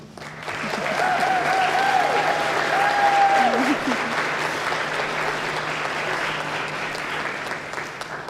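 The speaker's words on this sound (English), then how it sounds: "Please join me in acknowledging her efforts with your applause." Audience at a graduation pinning ceremony applauding Mrs. Ashley Briggs, the clapping swelling quickly and holding steady before easing slightly, with a faint voice briefly heard over it.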